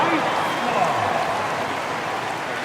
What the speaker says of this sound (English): Another round of applause for your Blazer dancers